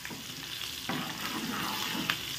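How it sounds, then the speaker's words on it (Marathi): A spiced masala with curry leaves fries and sizzles in a pan for thin poha chivda, with steady crackling broken by the scrape of stirring, heard up close and without speech. "कंटिन्युअसली अशा पद्धतीने हलवत राहायचं आहे, म्हणजे आपलं कुठलेही साहित्य यामध्ये करपणार नाही"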